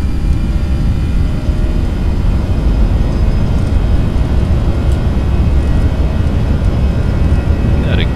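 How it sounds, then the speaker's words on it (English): Airbus A320 engines at flex takeoff power in X-Plane 11, a loud steady low roar that holds constant and close throughout, with no talk over it. "Alright, we're clear for takeoff. Let's go to flex power."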